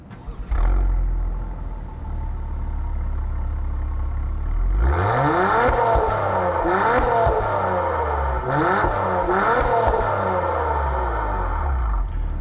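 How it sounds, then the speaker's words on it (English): A 2021 Acura TLX Type S exhaust in normal mode, baffles closed, idles with a deep steady rumble, then rises and falls through several revs, loud and close. "I want to first let you guys hear what it sounds like in normal mode"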